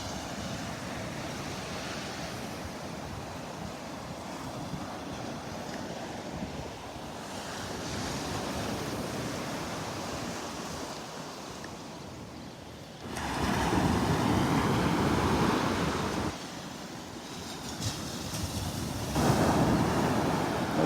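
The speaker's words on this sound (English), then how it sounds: "Those waves are really breaking here on this shelf at the ridge." Ocean waves breaking on a shallow shelf at the Naples Pier beach, a steady wash of surf with wind rumble on the microphone and louder crashing bursts in the later part, with no talking.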